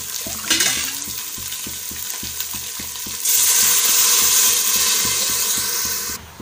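Water poured over frying rice in a pan for bagara rice sets off sizzling and bubbling, with faint stirring knocks throughout and a sharper burst of hissing steam midway before it cuts off.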